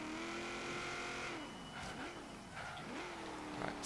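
A 1979 Chevrolet Camaro Z28 driven on an autocross course in Forza Horizon: a steady, loud engine drone whose pitch dips and climbs several times as the throttle lifts and reapplies, with faint tire noise.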